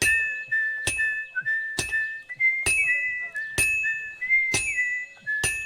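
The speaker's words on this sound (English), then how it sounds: "Henry will whistle once you found the right pace." A man whistles a short tune in clear steady tones in a Kingdom Come Deliverance 2 blacksmithing scene, punctuated by sharp, evenly spaced metallic hammer clinks on hot metal at the forge.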